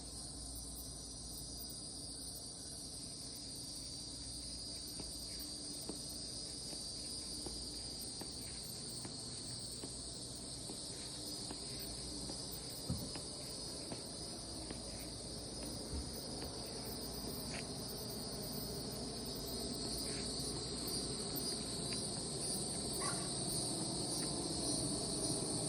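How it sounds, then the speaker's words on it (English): Dense, steady insect chorus of cicadas at dusk on a beach, a continuous high-pitched droning buzz that stays level and fairly quiet throughout, with no voices. "This is dusk at the beach. Do y'all hear the cicadas?"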